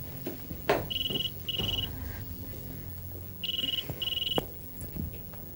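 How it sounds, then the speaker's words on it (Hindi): An indoor telephone rings in two pairs of short electronic trills, moderately loud and slightly distant, over faint background noise. "अंदर शायद फोन बज रहा है।"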